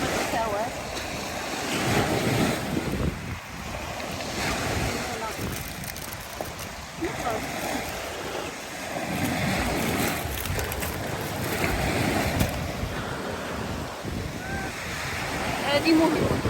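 Sea waves wash onto a beach on a cold, overcast day, a steady broadband surf roar with wind buffeting the microphone throughout and faint voices in the background.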